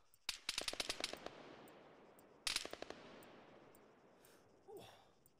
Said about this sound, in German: die Schüsse sind dicht bei